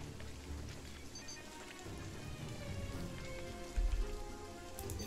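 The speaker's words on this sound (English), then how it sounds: "And why is that rain making everything lag?" Rain falling in the video game Jagged Alliance 3, a steady, even patter of drops on surfaces that continues throughout at moderate level, with a brief low thump near the end.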